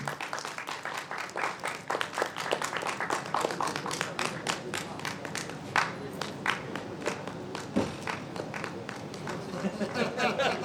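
Applause at an awards ceremony, a crowd clapping steadily and loudly for several seconds with dense overlapping claps.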